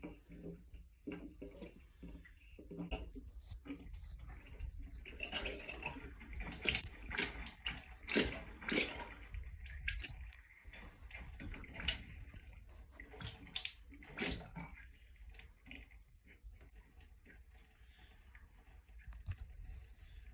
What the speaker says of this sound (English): and the water gurgling.